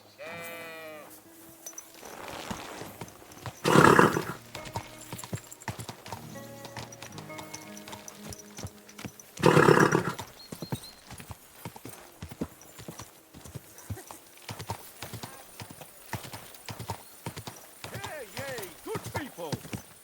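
Rhythmic clip-clop of horse hooves throughout in the video game Kingdom Come: Deliverance 2, with two loud whinnies and snorts, and someone speaking softly under the hoofbeats.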